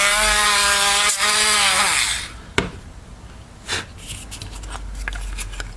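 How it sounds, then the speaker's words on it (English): A power drill whines loudly for about two seconds while drilling through metal, its pitch sliding down as it spins to a stop, followed by a few sharp clicks and faint scraping. "then drill directly down through there"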